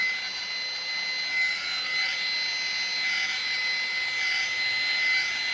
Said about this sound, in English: Now, I'm going to do the same like I did with the blow dryer.